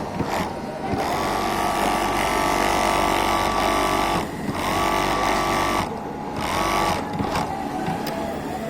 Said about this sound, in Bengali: এটা হচ্ছে ফ্যাটলক মেশিনে দেখুন কীভাবে টপসিন দেওয়া হয়